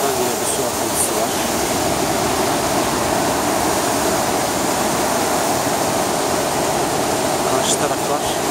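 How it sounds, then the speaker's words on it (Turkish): Water at Düden Waterfall: a constant, dense roar of rushing water, steady and loud throughout, heard from a bridge near caves, with no speech over it. "Oradan yine bir su akıntısı var."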